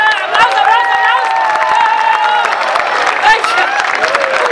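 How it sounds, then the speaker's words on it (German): An audience claps and cheers after a unicycle acrobatics act at an evening show, with loud, continuous applause mixed with high excited shouts throughout. "Applaus, Applaus, Applaus."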